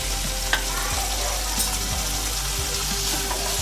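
Onion and fresh coriander leaves sizzle steadily in hot oil in a pan for vegetable pulao, while a spoon scrapes and stirs in close, regular strokes over the continuous frying hiss.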